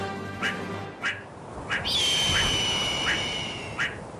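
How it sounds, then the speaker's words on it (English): A meerkat sentinel gives repeated sharp alarm barks, about five short calls spaced roughly evenly, with a longer nasal call in the middle, heard alone and fairly close. "The sentinel keeps barking."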